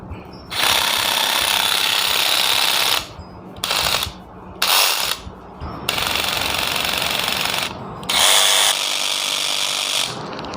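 A Dewalt DCS312N cordless reciprocating saw buzzes loudly in several bursts of a few seconds each, with short pauses between cuts.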